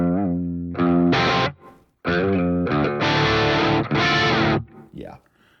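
An electric guitar played through a Keeley Caverns delay and reverb pedal rings out in loud sustained chords and notes, each swelling and trailing off into washy, distorted echoes with short gaps between phrases.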